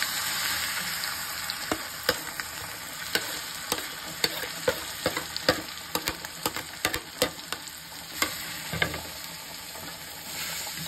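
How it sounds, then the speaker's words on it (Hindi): Cumin seeds and ground spices sizzle in hot oil for kachori filling, a steady frying hiss broken by sharp spoon scrapes and clicks against the pan, close and alone without voices. "तो यहाँ हमारा तेल पक चुका है, सबसे पहले जीरा डालेंगे, अब ये सारे मसाले अच्छे से भून लेंगे।"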